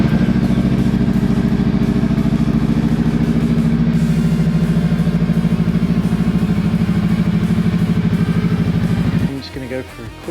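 A Honda Rebel motorcycle engine runs at a steady, loud idle with even low rumbling pulses close by, then cuts off abruptly near the end as a brief clatter of other noise follows.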